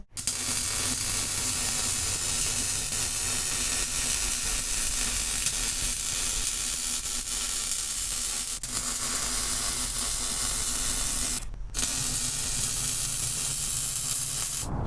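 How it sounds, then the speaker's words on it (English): Rock sliders being welded to a vehicle frame, making a continuous loud crackling hiss that runs almost without a break, stopping briefly twice before starting up again. "now we're going to weld them to the frame completely"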